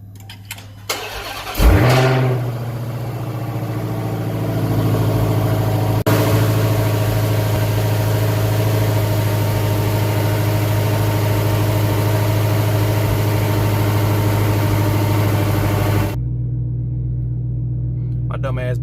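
Dodge Hellcat V8 fitted with a JLT cold air intake cranks, fires with a loud bark, then settles into a heavy, steady rumbling idle before cutting off abruptly near the end, with a few faint voices.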